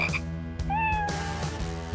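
On a TV variety game show, a person's voice imitates a frog croaking with quick, nasal, repeated ribbits, loud and close.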